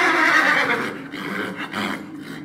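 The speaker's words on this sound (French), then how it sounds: "Alerté par son cheval, le fidèle étalon noir, Dracula se réveille de son sommeil éternel." A black stallion whinnies loudly and close, a long shrill neigh that falls away into softer breathy trailing calls, with no talk over it.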